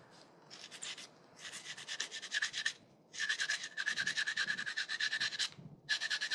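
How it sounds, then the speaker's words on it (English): A motorcycle front fork part is sanded by hand in rapid, rhythmic rubbing strokes, close up, in several bursts separated by brief pauses. "I have to sand."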